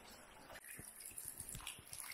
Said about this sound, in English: And the brook runs right down this canyon.